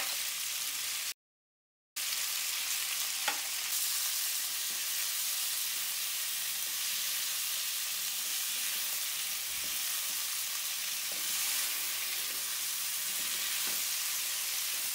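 Chicken pishpash, a rice and chicken dish seasoned with salt and pepper, is lightly stirred in a hot pan. A steady, even sizzle fills the clip, with a few soft scrapes of the spoon against the pan.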